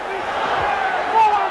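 A basketball arena crowd roars in a steady, distant wash of noise while players scuffle on court, with a brief swell near the end.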